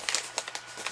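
Package sealed with washi tape being opened by hand, heard as a quick run of close paper crinkles and small tearing rustles over one second.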